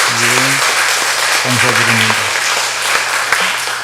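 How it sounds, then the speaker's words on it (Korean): Church congregation clapping during a Sunday worship service. Loud, close applause continues through the stretch while someone speaks over it at the start and in the middle. "다시 한 박수 부탁드리겠습니다."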